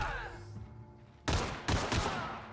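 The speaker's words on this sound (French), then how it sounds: "Fusil de chasse." Two loud shotgun blasts in the video game The Outer Worlds on Nintendo Switch, the second about half a second after the first, each with a short rumbling tail, following a softer low sound.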